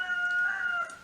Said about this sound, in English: I don't know if you can hear my rooster.